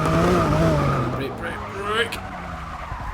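Tyres of a Lykan Hypersport squeal and skid under hard cornering in the Forza 6 racing game, a wavering screech over engine drone while someone talks over it.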